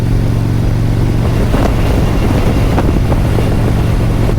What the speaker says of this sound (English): Boy, the wind gusts are pretty strong up here.